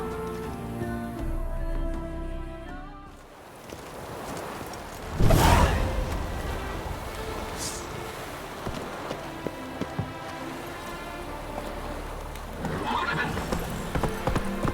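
A horse in The Witcher 3 gives a whinny, then its hooves clip-clop in a steady rhythm on the ground, moderately loud and close.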